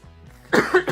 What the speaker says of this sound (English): Again, apologies for the coughing.